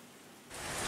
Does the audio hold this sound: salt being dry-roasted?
no